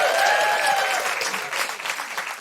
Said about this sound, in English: Big round of applause for Zoe, everybody.